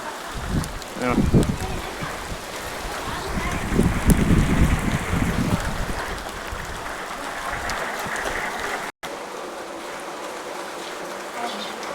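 Heavy summer rain pours down in a dense, continuous rushing hiss, with people talking over it in the first half.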